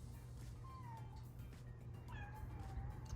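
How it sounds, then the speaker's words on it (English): A neighbor's cat meows twice at close range, each call a drawn-out, rising-and-falling cry, over a steady low background hum. "He was come over here, he start meowing at me."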